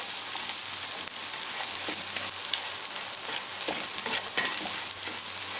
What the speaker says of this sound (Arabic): وبعد ما العيش دخل معانا مرحله التحمير او التحميص نزلت عليهم اهو